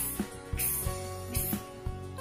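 A voice imitates scissors snipping hair with a couple of short hissing bursts, quiet and close, over a faint low background.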